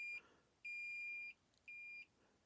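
Brymen BM789 multimeter beeping in electrical field detection mode, with three clean, steady electronic tones: a short one, then two longer ones with brief gaps, close and clear in a quiet room.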